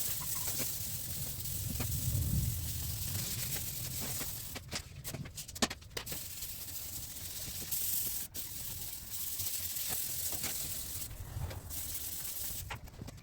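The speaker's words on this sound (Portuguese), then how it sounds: "Eu finalizei uma parte do lixamento aqui a seco com a lixa 400." Dry sanding of a new car bumper with 400-grit sandpaper at home: a steady, faint, close rasping scrub that continues throughout, with a few brief knocks and no talking.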